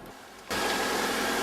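A 1985 Toyota MR2 with a brand-new short block fires up after a quiet lull and settles straight into a steady, loud, even idle that runs to the end without any voices.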